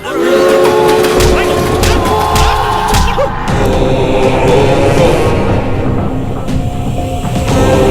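A loud train rumbles close by, with sustained whistle or horn tones early on and heavy mechanical noise throughout.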